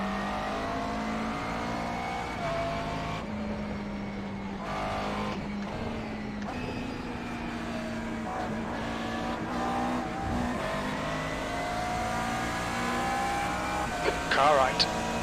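McLaren race car engine in a racing video game at Alton Park, a continuous revving whine that climbs and drops through gear shifts, with tyre squeal and short bursts of contact noise late on, no talking.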